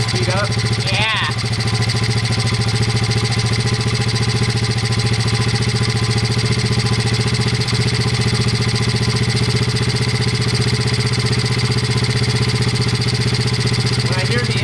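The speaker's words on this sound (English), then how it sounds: "When I hear the engine slow down again, I'll know I went too far." Modded Honda pitbike engine idling close up while its idle is adjusted, a loud, even putter running continuously, with a brief voice early on.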